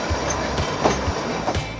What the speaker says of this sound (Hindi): इस ट्रैक पर रेलगाड़ी देवदार, चीड़, ओक और दूसरे पेड़ों के जंगलों के बीच से 22 किलोमीटर प्रति घंटे की रफ्तार से गुजरती हुई आगे बढ़ती है।